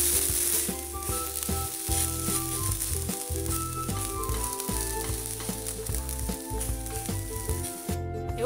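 A small improvised two-ingredient snack toasts in a frying pan while being flipped to cook the other side, giving a loud, steady sizzle that runs throughout with brief dips near the end.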